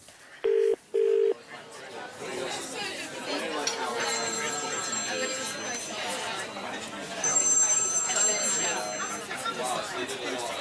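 Two short touch-tone beeps of a phone being dialed, then a telephone ringing twice over a murmur of studio audience chatter and talk.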